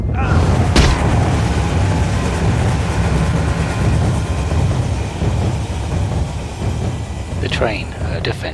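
A train in the video game Alice: Madness Returns, a loud, continuous rumbling roar with a sharp boom near the start and rattling clatter toward the end, heavy and close, with a voice speaking over it.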